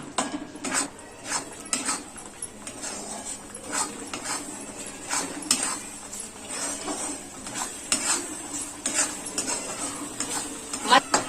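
Masala for Puneri misal, red chilli powder and homemade spice mix, sautéed in a pan with a spoon scraping and clinking against the metal in an irregular rhythm, close and fairly quiet over a faint sizzle.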